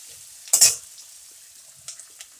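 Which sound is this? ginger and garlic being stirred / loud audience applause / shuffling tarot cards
ginger and garlic being stirred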